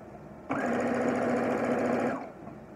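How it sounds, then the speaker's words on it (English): Sewing machine stitching fabric for a face mask pocket, one steady continuous burst of rapid mechanical whirring for about a second and a half, close and loud, then stopping. "And then I'm going to sew them just halfway in, leaving an open gap right here."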